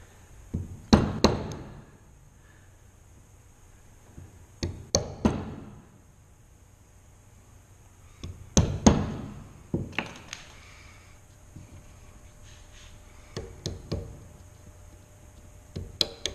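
A hand chisel struck with a mallet to cut a groove in wood, heard as several clusters of sharp, close knocks separated by quiet pauses.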